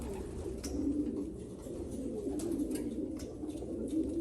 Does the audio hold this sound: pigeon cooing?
yes